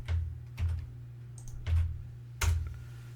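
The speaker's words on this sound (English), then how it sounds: "So I'm going to type the password in." A password is typed on a computer keyboard with a few spaced, soft, close key taps, four or five distinct presses over a quiet background hum.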